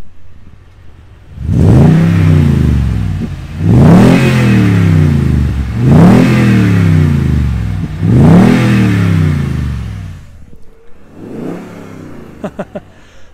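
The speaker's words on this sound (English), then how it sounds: "So we'll do a few revs." A 2021 Toyota Tundra TRD Pro pickup engine revs hard four times in a steady rhythm, each rev rising and falling, close and loud, then settling to a rough idle with a few clicks.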